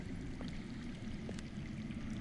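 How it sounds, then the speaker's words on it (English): Underground water flows in a video game, a steady, dense rushing and trickling wash with faint splashy details, continuous and even throughout, with no speech over it. "I hear water. From underground."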